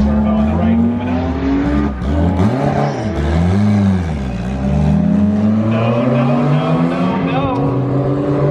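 A turbocharged drag race car launches at a drag racing event, its engine revving hard in rising and falling sweeps with tire noise as it accelerates down the strip, loud and close.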